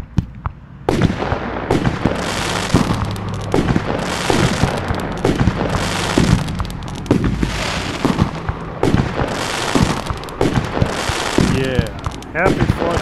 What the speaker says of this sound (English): Enjoy the fireworks that we do.